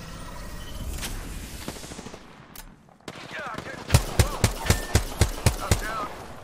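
Video game gunfire: scattered shots early on, then a rapid evenly spaced burst of about nine loud, sharp reports near the end, with faint talk underneath.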